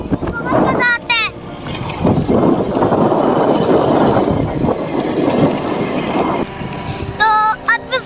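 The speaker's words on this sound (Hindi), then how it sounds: "तो देखो मैं बाइक चला रहा हूँ" A motorbike ridden along a village road, its engine and wind noise rushing steadily and close throughout, with brief bird chirps at the start and end.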